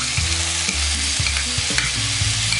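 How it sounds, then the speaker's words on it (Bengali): Potatoes frying in a pan with poppy seed paste, ginger paste, green chilli paste and spices for Bengali alu posto, stirred in several scraping strokes over a continuous close sizzle, no speech. "আমি একটু নেড়ে ভালো মতো মিশিয়ে দেবো, একটু ভাজা ভাজা করে নেব।"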